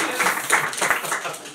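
Small audience at a community radio fundraiser applauding themselves, a brief, soft patter of clapping mixed with murmuring voices, modest and close.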